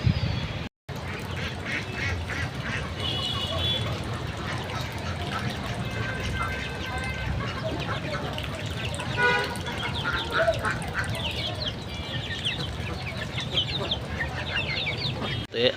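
A flock of farm ducks quacks continuously and busily at close range, with overlapping calls forming a dense, steady chatter throughout.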